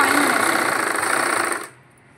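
A sewing machine stitches the folded bottom hem of a Punjabi pant, running loud and steady with a fast mechanical whir before stopping abruptly near the end.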